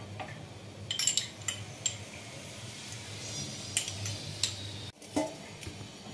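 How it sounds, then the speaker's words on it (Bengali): A spoon stirs boiling milk in a pot as vinegar curdles it into chhana, making scattered clinks and ticks against the metal over a low steady hum, with a brief pause near the end. "একটু নেড়ে দিচ্ছি।"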